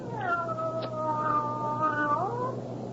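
A cat lets out one long, drawn-out meow, close and clear, sustained for about two seconds before trailing off with a falling pitch.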